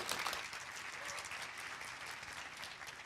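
Audience applause for the speaker's wife, a dense steady wash of clapping from a crowd that holds evenly and fades slightly at the end.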